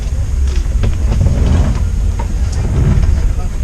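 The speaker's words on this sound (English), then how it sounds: "On the first stop of the train, headed to our hotel." An Amsterdam airport train rolls toward the city, heard from inside the carriage as a loud, continuous low rumble with scattered rattles and clacks over it.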